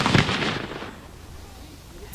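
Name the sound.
Civil War reenactors firing cannons at Gettysburg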